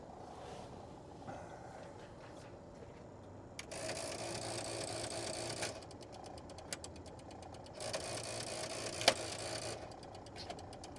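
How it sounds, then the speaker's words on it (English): A Dodge's in-dash cassette player mechanism struggles, giving bursts of rapid mechanical whirring and clicking that start and stop, with a sharp click near the end, close up inside the car. "Cassette player ain't happy."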